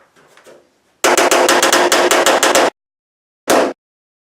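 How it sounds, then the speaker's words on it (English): Rapid, loud metallic hammer strikes on the fender lips of a Nissan R32 Skyline in a fast burst of about a dozen blows, followed by a pause and one more hard hit. "I'm going to hammer down the lips"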